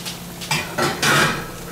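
Metal pans clanking and scraping as they are set out before heating in an oven for deep-fried roast potatoes; three short bursts of clatter close by, no talk.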